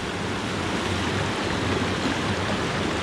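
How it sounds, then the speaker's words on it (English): A natural waterfall cascade in Marinette County, Wisconsin, rushes as a steady, dense roar of falling water, constant and fairly near, with no voices. "but it's still very much a natural waterfall"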